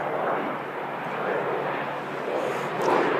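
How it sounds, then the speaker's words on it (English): An ATR turboprop airliner at Christchurch Airport, bound for Wellington on a day of possible crosswinds, gives a steady, broad engine roar at moderate distance, holding even and swelling slightly near the end. "It's only another ATR."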